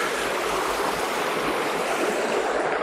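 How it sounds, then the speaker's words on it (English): Canal overflow water rushes steadily through a ridged fish-pass chute into a river, a constant, close, full-bodied roar of flowing water with no voices. "the main overflow into the river, which is just here, flowing nicely"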